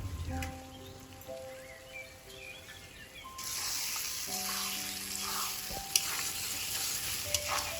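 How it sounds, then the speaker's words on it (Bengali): Curry of pointed gourd and shrimp with poppy seed and mustard paste sizzles in a pan, a soft frying hiss that grows denser midway, with occasional scrapes and clinks of stirring and no talk. "আমাদের তরকারিটা তো খুব ভালো করে কষানো হয়ে গেছে"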